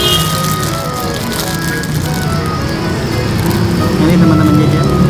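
Rain falls steadily in a continuous patter, with people talking over it and occasional tonal sounds from nearby.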